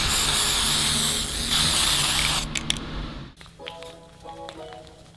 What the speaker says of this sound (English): It is a matte sealant spray for paint in general